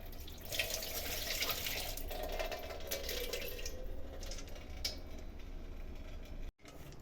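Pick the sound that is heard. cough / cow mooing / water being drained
water being drained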